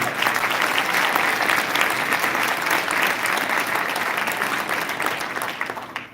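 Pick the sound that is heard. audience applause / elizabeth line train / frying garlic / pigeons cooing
audience applause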